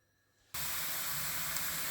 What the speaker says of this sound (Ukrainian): Ось так зажарочку обсмажила, бачите, ще смажиться.